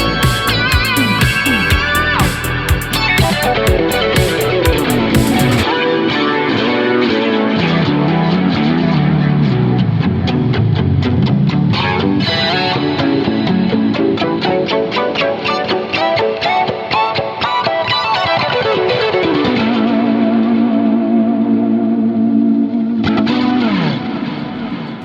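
An electric guitar runs through the Neural DSP Archetype plugin, with heavily processed, chorused and distorted riffs and chords playing continuously, dense and loud, with shifting effects and no talking.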